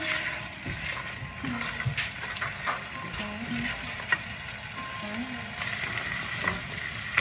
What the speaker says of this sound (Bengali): চিংড়ি মাছটা ভাজা হোক,